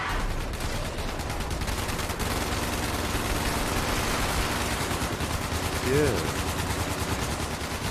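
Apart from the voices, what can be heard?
gunfire in the video game Fallout 76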